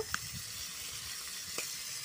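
Small Japanese puti fish frying in oil in a wok, a soft, steady sizzle running evenly throughout with a couple of brief crackles near the start and again toward the end.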